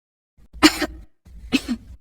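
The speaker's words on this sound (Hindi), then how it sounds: "वो थोड़ी खांसी है।" Two short, harsh coughs close to the microphone, spaced about a second apart.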